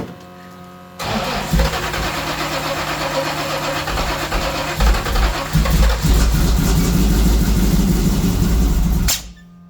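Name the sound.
blown 383 Camaro engine starting and running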